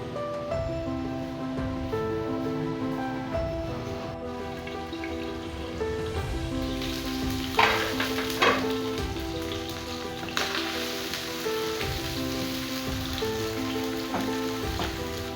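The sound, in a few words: food frying in a pan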